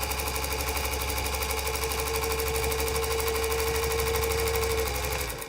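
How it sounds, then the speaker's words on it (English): A Featherweight sewing machine stitches through a small quilted scrap of fabric, a steady, rapid mechanical chatter running loud and unbroken for about five seconds before it stops abruptly. "I'll take a little scrap of fabric and make a little mini sandwich, and then I'll just do some little stitching on here"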